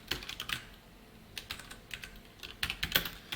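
Typing C code on a computer keyboard: soft, close key clicks in short irregular runs with small gaps, no talking over them.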